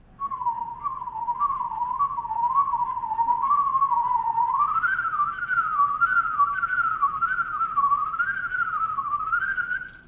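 A person whistles a rapid, busy melody with quick rising and falling runs, clear and close, alone without other sounds.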